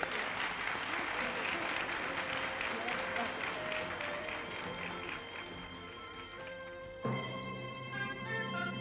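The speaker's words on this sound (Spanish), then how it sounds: "el aplauso fuerte para ellos" Studio audience applause on a 1980 Spanish TV game show, a steady dense clapping that runs for several seconds, then briefly thins before picking up again, with music and a host's voice mixed underneath.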